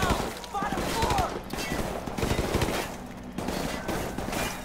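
Gunfire in the video game Call of Duty: Modern Warfare Remastered, dense bursts of rifle and machine-gun shots crackling continuously during a firefight, with voices shouting over the shooting.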